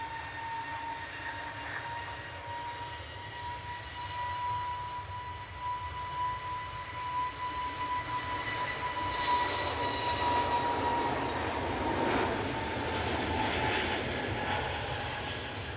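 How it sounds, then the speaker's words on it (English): A Loganair ATR turboprop arriving at Manchester Airport from the Isle of Man, its propeller drone carrying a steady tonal hum that swells as it nears, louder toward the end. "It's the Loganair ATR. And this is coming in from the Isle of Man."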